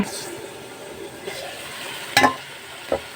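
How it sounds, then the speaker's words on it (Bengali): Pumpkin and dried shrimp curry simmering over low heat in a pan, a soft, faint sizzle with a few sharp clinks of a utensil against the pan near the end. "এবার আমি চুলার তাপটা লো হিটে রেখে আরও দশ মিনিট তরকারিটা রান্না করে নিব"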